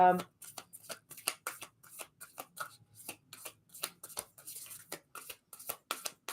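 Tarot cards are shuffled with repeated quick riffling bursts and soft flicks in an uneven rhythm, close and fairly quiet.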